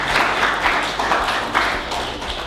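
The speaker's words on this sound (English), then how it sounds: "I think we can give a clap" An audience at a stakeholders' assembly claps in a brisk, close burst of mixed hand claps lasting a couple of seconds, steady throughout with a few sharper individual claps standing out.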